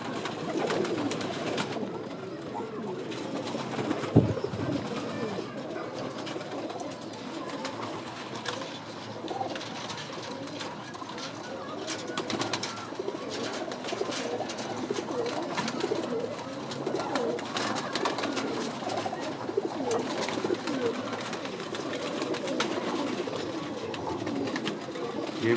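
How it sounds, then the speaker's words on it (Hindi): Kamoja 79 pigeons coo in low, repeated throaty calls that overlap continuously, close by amid wing flutters and faint background noise. "ये कामोजा 79 वाले कबूतर हैं"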